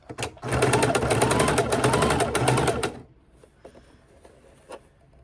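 A sewing machine stitching elastic onto a fabric baking dish cover runs in a loud, fast steady burst for a few seconds, then stops, leaving faint handling clicks while the fabric is turned.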